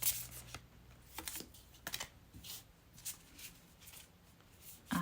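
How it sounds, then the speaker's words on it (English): Tarot cards are shuffled by hand close to the microphone, a run of soft riffling and slapping bursts spread over about five seconds with no one speaking. "Let's now shuffle your cards."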